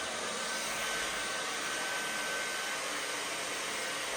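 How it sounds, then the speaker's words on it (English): Hair dryers whirring steadily in the drying area of a swimming pool in a provincial Russian city, a constant broad airy roar with a faint whine, close and even throughout, no talking. "this is some zone where people dry their hair after swimming"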